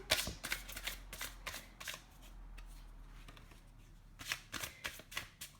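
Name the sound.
shuffling tarot cards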